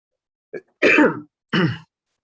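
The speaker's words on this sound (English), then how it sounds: "I am currently recovering from a cold, so you may hear a cough every now and again" A short throat clear followed by two distinct coughs from someone recovering from a cold, close and clear against silence.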